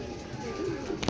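Racing pigeons coo softly at a race loft, low warbling calls close by, with faint voices mixed in and a brief click at the end.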